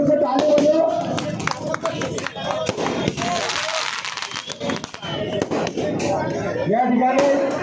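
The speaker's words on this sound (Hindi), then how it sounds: "सब जोर से ताली बजाओ" Crowd clapping at an outdoor Vanchit Bahujan Aghadi political rally, dense percussive applause spread across the whole stretch, loud and close, with a voice speaking over it at times.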